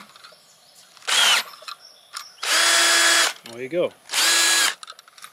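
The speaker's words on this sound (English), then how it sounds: "And you put the drill on like this." Electric drill spinning a 3D printed winder for electric fence wire, three loud whirring bursts of about a second each separated by pauses, with brief close talk in between.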